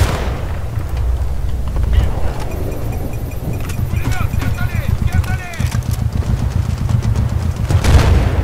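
Rapid bursts of gunfire in Battlefield: Bad Company 2 crackle over a low rumble, with sharp repeated shots and faint voices in the background.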